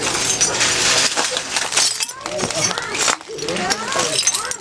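Real broken glass crunching and clinking underfoot as a person walks across it, scattered sharp crackles and tinkles mixed with people talking nearby.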